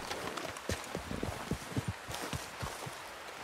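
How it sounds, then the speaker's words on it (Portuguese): A horse's hooves clip-clop in the video game Red Dead Redemption, a steady series of distinct hoof strikes at a walking pace over a constant background hiss. "O cavalo."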